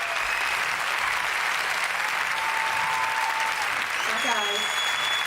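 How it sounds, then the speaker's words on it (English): Studio audience applause rolling steadily throughout, dense and even clapping with a few faint voices and tones rising above it near the end. "and the crowd goes wild"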